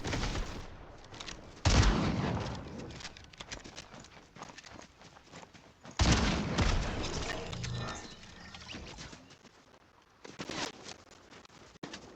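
Gunfire from opponents in the video game Fortnite, rapid shots and impacts in two loud bursts with busy game effects around them, no talking.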